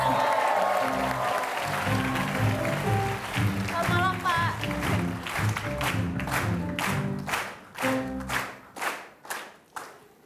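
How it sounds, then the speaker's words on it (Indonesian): A crowd applauds, first dense and blended with voices, then thinning into separate loud claps that fade toward the end. "Kita berikan tepuk."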